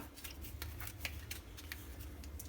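Oracle cards are shuffled during a reading, a quiet run of quick, soft riffling flicks and slaps repeating close by with no speech.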